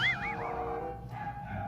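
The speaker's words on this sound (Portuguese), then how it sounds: "Mas os cachorros adoram latir nesse momento." Dogs nearby yip and whimper in a brief, rising-and-falling burst, fairly close and clear with a soft background hum.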